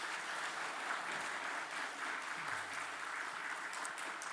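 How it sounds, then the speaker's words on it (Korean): A church congregation applauds steadily at a Sunday morning service in Ulsan, the clapping evenly spread and sustained throughout with no voices over it. "박수 한번 부탁합니다"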